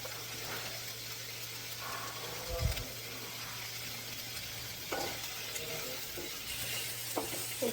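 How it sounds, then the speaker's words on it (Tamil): Mushroom potato gravy with salt stirred in a pan, giving a steady frying hiss with a few soft scraping stirs, under a constant hum and faint voice. "உப்பு போட்டு நல்லா கிளறி விட்டுக்கலாம்."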